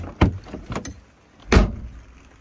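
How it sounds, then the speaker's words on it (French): The entry door of a camper van is worked by hand: a couple of quick latch clunks and rattles, then a single louder thud of the door, close and dry with short gaps between. "on va voir si j'ouvre la porte d'entrée"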